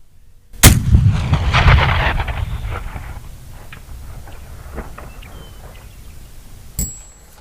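A single loud high-powered Buffalo rifle shot fired across 600 yards of open prairie, a sharp crack followed by a long rolling echo that fades, then a second shorter report near the end.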